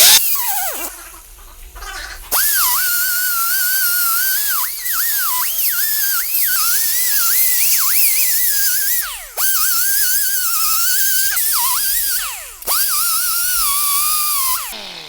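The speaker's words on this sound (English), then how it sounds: "we're going to shave off these bottom lower two nubs, and then it'll bolt right up to this" A high-pitched power tool shaves plastic nubs off a Rough Country hidden light bar for a Chevy Silverado, its whining pitch wavering and dipping as it bites in, with several short pauses between long close passes.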